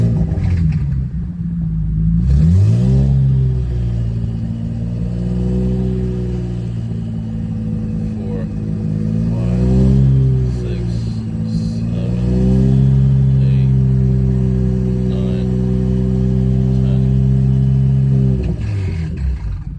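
An Infiniti Q60 Red Sport engine is revved up and held at about 2,500 RPM, a loud close droning rumble that swells, settles into a sustained hum and drops away near the end.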